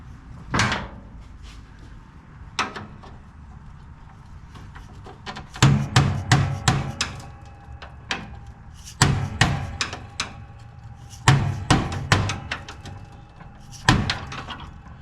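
Hammer strikes on a John Deere L110 lawn tractor during belt and pulley work, trying to knock a stuck part loose: sharp metallic knocks come singly and in short irregular bursts, fairly close, with quiet gaps between.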